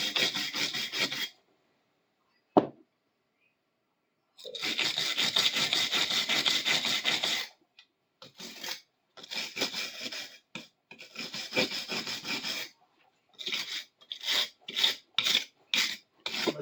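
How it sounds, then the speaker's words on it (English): A hand scraper rasps over a heavily painted clamp vise in bursts, long steady strokes at first, then shorter rapid scrapes separated by brief pauses, close and loud. "Might take a scraper to this as well."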